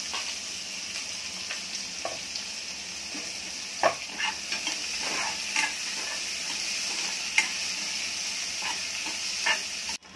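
Onion fries with curry leaves in a hot pan, giving a steady bright sizzle close by, punctuated by occasional spatula scrapes and light clinks, with no one talking.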